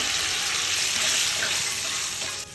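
A mustard and garlic spice paste for a morola fish curry fries in a pan, giving a loud, continuous close hiss that barely changes and drops slightly at the very end.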